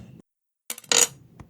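Dice rolled during a tabletop session of the Elder Scrolls V: Skyrim board game: a quick scatter of clicks followed by a brighter rattling clatter as the dice tumble and settle, close and fairly loud.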